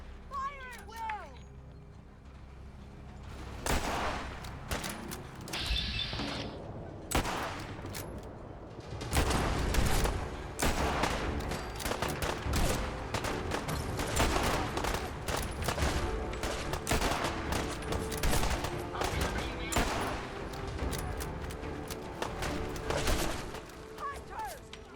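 Volleys of gunfire roar through a Fallout 4 battle, with dense, repeated shots and bursts that keep going for most of the stretch, mixed under shouted voices.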